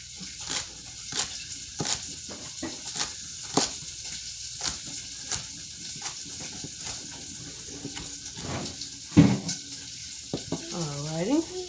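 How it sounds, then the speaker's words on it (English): Pork fat rendering in a pan, a continuous sizzle broken by repeated sharp scraping and stirring strokes, close by, with a brief tonal clatter near the end. "It's just rendering the fat off of it before I add the stuff to it."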